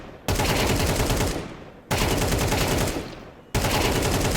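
Three long bursts of automatic rifle fire in Counter-Strike during beginner strafing practice, each a loud, dense rattle lasting about a second and a half, separated by brief gaps, with no voices over the shots.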